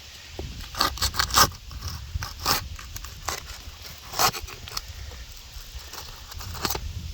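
Damaged roof shingles being loosened and pried up, giving repeated scraping, crackling bursts and sharp tearing rubs at close range, with quiet gaps between the efforts.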